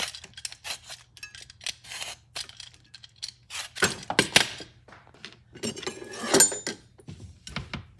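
Cassava (yuca) root being peeled with a hand peeler, heard as a series of close, sharp scraping strokes in irregular bursts, some louder than others, with short quiet gaps between and no voices.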